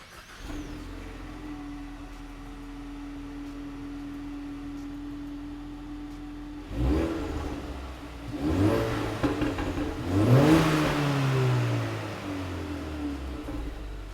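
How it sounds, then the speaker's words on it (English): A 2018-2023 Ford Mustang EcoBoost with its stock exhaust idles steadily, then revs sharply twice, the exhaust roaring up and settling back between blips. "we're going to give you some clips of the stock exhaust"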